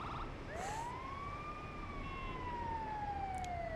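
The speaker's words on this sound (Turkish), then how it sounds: "Bakalım bu ambulanslar sinyali yaka yaka gidiyor bir yere." A wailing ambulance siren in GTA 5 sweeps up and then slowly falls in pitch, sounding continuously over a steady background hum, with no talking.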